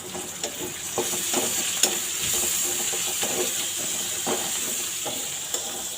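Onion and garlic sizzle in hot oil as a tempering for boiled greens with lentils, a steady close hiss with scattered sharp crackles and pops and no voices.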